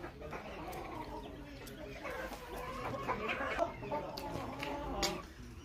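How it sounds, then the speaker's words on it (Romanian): Young Australorp chickens cluck and chirp at an ornamental poultry show in Goranu, Vâlcea, Romania, soft overlapping calls with a few sharper peeps over a quiet background. "Astea sunt niște pui de australop"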